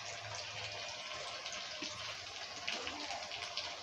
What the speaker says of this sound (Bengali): রাইসটার জন্য জলটা ফুটে গিয়েছে